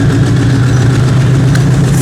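A diesel locomotive engine hauling the Yeshwantpur–Sindhanur express throbs loudly and continuously, a heavy low rumble with no voices over it.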